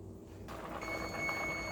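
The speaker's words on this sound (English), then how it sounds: "All right, the timer is done." Steady high electronic tones come from a kitchen timer, heard faintly over low background hum while chicken noodle soup cooks.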